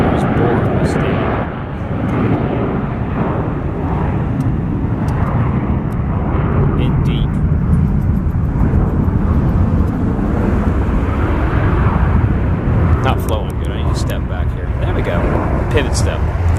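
Airliner at Atlanta Hartsfield airport on a windy day, a loud sustained engine roar with low rumble and wind buffeting on the microphone throughout, with a voice talking over it.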